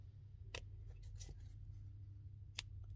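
Scissors snip through packaging and wallpaper in a few short, crisp cuts spaced apart over a low background hum, close and fairly quiet.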